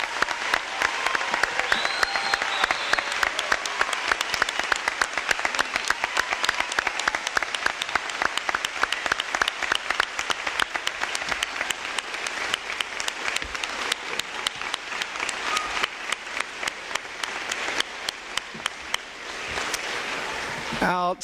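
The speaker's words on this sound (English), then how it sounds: "would you please join me now in giving them the applause they deserve for their outstanding" Long, sustained audience applause for students inducted into an honors academy, a fairly soft, even patter of many hands that holds steady before tapering off near the end.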